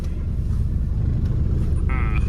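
A Maruti 800 car engine idles just after starting, a loud, steady low rumble close by with a brief higher whine near the end; a voice speaks over it.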